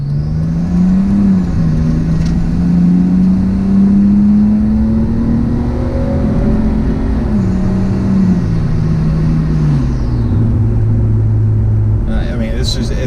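A Nissan Skyline engine drones steadily from inside the car while driving, a loud low hum rising and falling gently with throttle, with road rumble beneath and a brief knock near the end.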